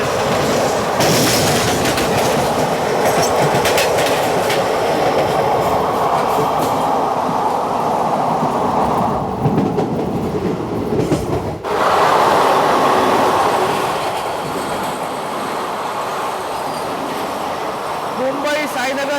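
Rajya Rani Express 17611 from Nanded to Mumbai heard from inside a 3 AC coach, a steady loud rolling rumble and rattle of the carriage with a brief dip midway, voices faintly present.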